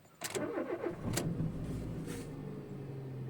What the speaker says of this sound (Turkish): Çalışmayan araba, beni o kadar uğraştıran araba, çalıştığı zaman gaz yemeyen araba çalıştı